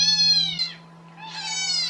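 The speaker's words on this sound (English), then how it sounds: "I'm playing cat sounds and seeing if my cats react" Cat meows play from a phone speaker indoors, two distinct meows with a brief gap, close and clear over a faint steady hum.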